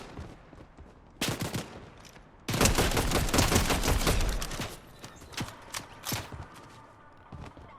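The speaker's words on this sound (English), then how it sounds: "And I'm still getting shot at." Gunfire in the Fortnite video game crackles in rapid bursts, with a sustained volley in the middle and scattered shots afterward, fairly loud and with no talking.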